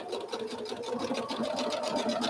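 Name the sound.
sewing machine sewing a quarter-inch seam on quilt fabric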